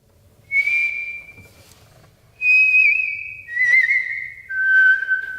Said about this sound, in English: Whistling also works.